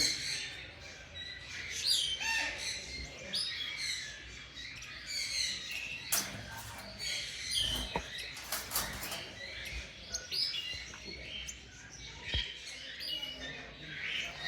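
Pet rosellas and ringneck parrots chatter and squawk in a shop aviary, with sharp chirps, whistles and occasional wing flaps overlapping continuously at close range, no one talking.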